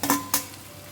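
Fried okra being stirred into a bhindi bhaji in a pan, giving two short scraping, sizzling strokes close by, with quiet frying between.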